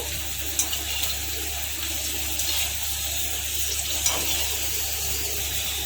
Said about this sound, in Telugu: ఆయిల్ హీట్ అయిన తర్వాత వేయాలండి, లేకపోతే బాగా పొంగవు. తర్వాత ఉన్న పూరీలు కూడా వేపేసేయాలండి